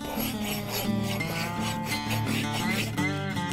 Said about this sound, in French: il faut toujours que tu la laisses à plat en faisant des ronds comme ça